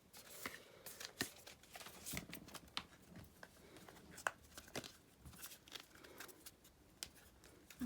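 Tarot cards are shuffled repeatedly, making rapid papery riffles and soft slaps in an irregular rhythm, close and fairly quiet.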